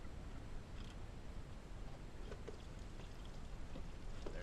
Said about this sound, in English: There goes the coolant.